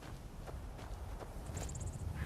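A few soft horse hoofbeats clop in a loose walking rhythm in Skyrim, faint and close, followed by a brief high chirp.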